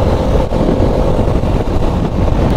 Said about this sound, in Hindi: पीछे 200 सीसी की बाइक आ रही है,